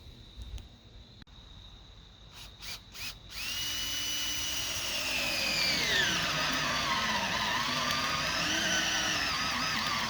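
A power drill whines steadily at close range as it drills into a wall, its pitch rising and sliding as it bites into material, after a few short bursts of tool noise at the start.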